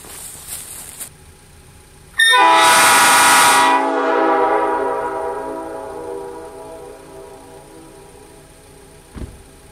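Nathan P5 train horn blasting at maximum, a single loud chord-like blast lasting about two seconds that rings out and decays slowly over the next several seconds, with quiet outdoor background before and after.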